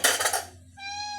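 After a short burst of rushing noise, a domestic cat gives a single clear, close meow.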